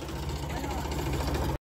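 Farm tractor engine running on a field trip uphill, a steady close chugging drone that holds evenly before cutting out abruptly near the end.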